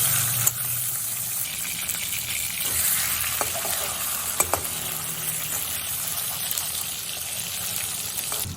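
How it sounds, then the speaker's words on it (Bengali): Two pieces of bhetki fish fry in hot mustard oil in a wok, giving a steady, fairly loud sizzle and hiss that runs unbroken throughout, with a few brief clicks of a utensil against the pan. "তেলটা গরম হয়ে যাওয়ার পরে আমি 2 টুকরো মাছ একসাথে দিয়ে দিয়েছি ভাজার জন্য।"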